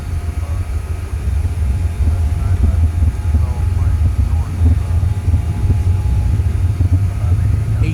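BAe146 jet engines at takeoff power in a flight simulator game roar as a loud, steady low rumble with a constant whine over the whole stretch.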